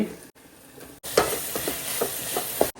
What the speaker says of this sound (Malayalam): നമ്മൾ റൈസ് എന്ത് ചെയ്യുക ഒന്ന് ഇളക്കി കൊടുക്കുക